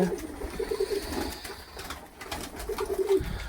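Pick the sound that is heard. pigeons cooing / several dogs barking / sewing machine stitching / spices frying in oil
pigeons cooing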